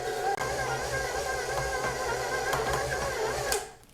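An electric stand mixer runs steadily on low speed, mixing quick oats into oatmeal cookie dough with ginger and chocolate chips, a constant mechanical whir with a few knocks of the beater before it winds down at the end.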